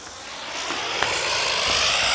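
A lit helicopter firecracker spins at Diwali with a steady, fairly loud whirring hiss that holds for about two seconds, a few faint crackles popping over it.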